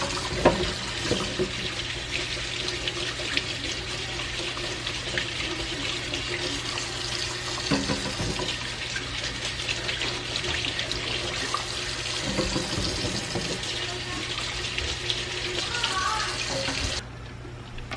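Water runs steadily from a kitchen tap into a pot during meal prep, a continuous close splashing rush that cuts off near the end.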